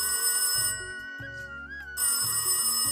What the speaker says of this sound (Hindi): फोन पर एक कॉल आता है।